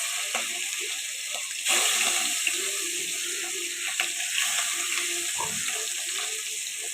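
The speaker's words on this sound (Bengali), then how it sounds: "এবার মাছটা দিই।" Fish is fried in hot oil in a home kitchen wok, a continuous bubbling sizzle with a few soft clinks and shifts, fairly close and steady, with no one talking.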